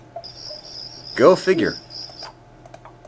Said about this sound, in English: I wonder what the crickets sound like.